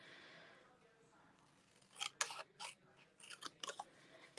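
Scissors make a quick series of close, crisp snips while fussy cutting a stamped paper sentiment, the cuts starting after a quiet moment and grouped irregularly.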